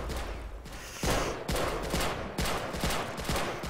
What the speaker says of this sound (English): let's see how they do shoot bazookas